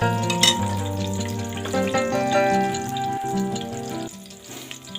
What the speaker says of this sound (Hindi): मैं यहाँ पे दाल में तड़का लगा रही हूँ